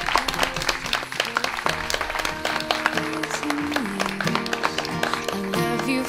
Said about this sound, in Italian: Carmelo e Laura sono marito e moglie, li accogliamo con un applauso